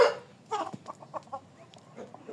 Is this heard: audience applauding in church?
no